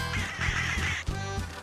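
Cartoon birds quacking on a path in a Paw Patrol video game, a short run of several loud, clear, nasal quacks in quick succession close to the listener, with nothing else around them.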